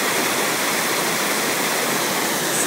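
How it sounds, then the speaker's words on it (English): Water rushing out through a 4-inch hole in the bottom of a 55-gallon drum during a homemade hydrocyclone test, a loud, steady, close splashing roar like a small waterfall. "The water still hasn't drained out of the bucket. There's a 4-inch hole in the bottom."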